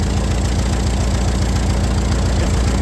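A 1912 Continental race car engine runs steadily and loudly at close range, a dense, even idle-like drone with a low, regular pulse from start to finish.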